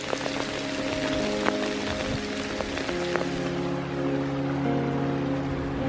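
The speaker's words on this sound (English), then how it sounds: "it's become pouring down with hail" Hail pours down outdoors during a Northern Lights trip, a dense, constant patter of pellets on surfaces with scattered sharper ticks, alongside a low hum, with no voices.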